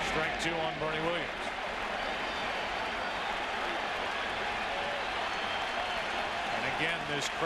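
Dense stadium crowd noise swells steadily at a Mets home game during the 2000 World Series, a broad continuous roar with scattered cheers, while a commentator's voice talks over it throughout.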